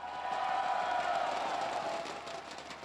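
A large arena crowd at the SMITE World Championship esports event roars and cheers steadily, a dense, continuous wash of voices lasting throughout without breaks.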